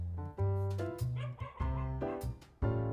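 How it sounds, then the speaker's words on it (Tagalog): A dog barks and yips several times in quick, uneven bursts, fairly close and loud, with no other sound in between. "Ang ingay na aso"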